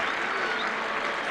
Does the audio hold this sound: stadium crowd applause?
yes